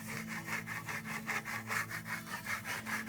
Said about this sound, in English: Now the plaster is dry and we're ready to burnish the surface.